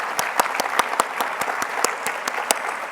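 Conference audience applauding a team at a space station research event, a lively patter of individual claps in a fairly sparse, rhythmic burst from a modest crowd.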